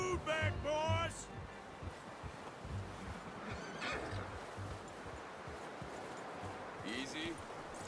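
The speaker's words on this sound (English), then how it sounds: "You should really tether that horse, Arthur." A horse in the Red Dead Redemption 2 video game whinnies shrill and close at the start, then snorts and shifts quietly under ambient outdoor noise, with a few brief neighing bursts later.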